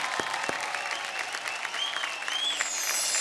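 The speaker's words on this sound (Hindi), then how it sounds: "भाई जोरदार तालियां।" An audience at a folk singing reality show applauds steadily, a dense, sustained wash of clapping from a large crowd that swells slightly toward the end, with a few cheers mixed in.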